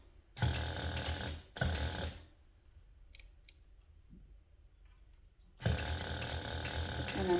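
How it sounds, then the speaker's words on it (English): Sewing machine back stitching on a handbag, with two short mechanical runs and then a longer steady whir after a pause, close and fairly loud, with small handling clicks in between. "So I'm going to back stitch a couple stitches."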